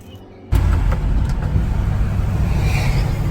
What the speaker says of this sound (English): first test drive of the new rear end